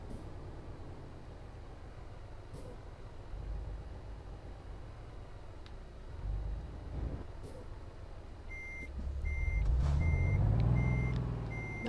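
A truck backing up in a truck-driving video game: a steady engine drone, then a series of sharp, evenly spaced reversing beeps as the engine revs and rises in pitch near the end.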